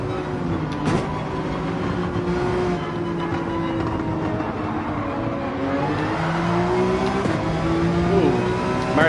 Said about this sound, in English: I heard his tires squeal so that he would avoid a crash.